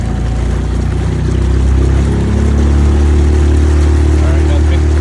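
A motorized kayak skiff engine runs steadily at half throttle, a loud continuous low drone with water wash, close and constant throughout.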